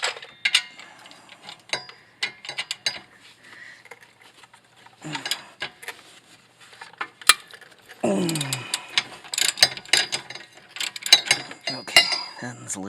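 On a Toyota Sienna, a wrench works loose the 17 mm caliper bracket bolt with scattered sharp metallic clicks, clanks and ratcheting ticks up close, coming in irregular bursts with brief pauses.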